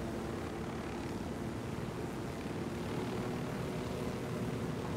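A steady, droning rotor and engine roar holds constant throughout, a helicopter flying nearby in the video game Ghost Recon: Wildlands, with no talking.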